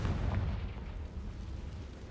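A Confringo blast spell bursts in Hogwarts Legacy, a dense low booming rumble that rolls on steadily for a couple of seconds with no voices over it.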